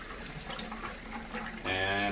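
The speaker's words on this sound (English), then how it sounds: "Kangen water is coming out of the machine." Water runs steadily from the spout of a Kangen SD501 Platinum water ionizer machine into a container, a continuous close splash that brightens and grows fuller toward the end, with no talk over it.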